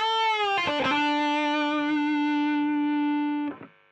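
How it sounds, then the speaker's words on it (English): Electric guitar through an AmpliTube inverse reverb preset, shimmer off: a sustained chord rings with a reverse swell, a few picked notes overlapping, then the tail cuts off abruptly near the end. "I'm just going to turn off the shimmer so you can hear what the inverse reverb sounds like"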